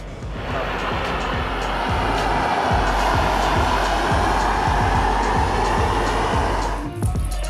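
A torch heats a piece of stainless steel plate before it is bent, making a loud, steady roaring hiss close by for several seconds that fades at the end; no speech.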